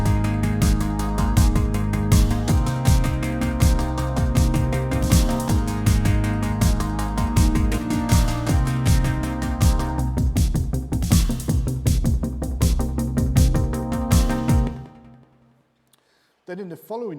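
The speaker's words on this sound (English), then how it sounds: "And some great kind of rhythmic synth sounds like this." A Korg Triton synthesizer plays a dense, driving rhythmic patch with pulsing repeated notes and sweeping tones. It sounds loud and busy, then fades out near the end into a few faint blips.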